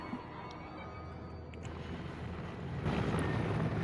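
A helicopter in the game Squad passes overhead as a faint, steady rotor drone, swelling louder near the end as it comes closer.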